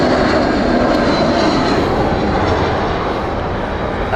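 An inbound British Airways airliner makes a loud, close jet roar that holds steady for a few seconds and fades a little toward the end.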